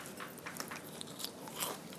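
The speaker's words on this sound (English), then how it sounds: "do you hear that crunch? It's so juicy." One close, crisp crunchy bite into crispy Korean fried chicken, followed by a brief run of crackly chewing, faint and with no talking.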